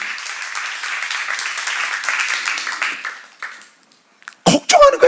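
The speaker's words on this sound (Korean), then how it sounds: "박수하세요" A church congregation at a Korean seminar applauds for a few seconds before the clapping fades out, followed by someone speaking loudly.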